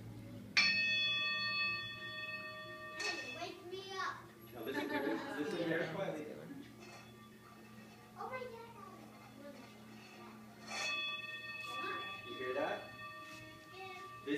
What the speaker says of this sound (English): This is a singing bell.